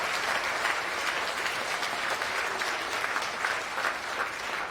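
Steady, dense applause from a large audience at a National Urban League Juneteenth event, clapping continuously throughout without pause.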